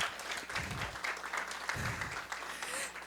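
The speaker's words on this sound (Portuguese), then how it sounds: "Uma salva de palmas para os líderes do Brasil, que somos nós." Applause from the audience at a national leadership workshop meeting, a moderate, steady patter of clapping that holds for a few seconds, fairly soft and slightly distant.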